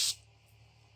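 A brief burst of water spraying out under pressure while a container fills, loud and hissy for a moment, then dropping to a low steady trickle and hum.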